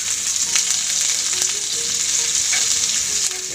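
Garlic frying in oil for a sautéed corned beef and kangkong dish, a loud, dense, continuous sizzle with occasional light stirring knocks, close up and without talk.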